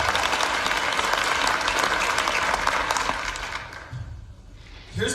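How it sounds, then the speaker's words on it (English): Town hall audience in Iowa City applauds loudly for about three seconds, a dense wash of clapping that thins and fades out, followed by a brief spoken voice near the end. "Let's give also a round of applause."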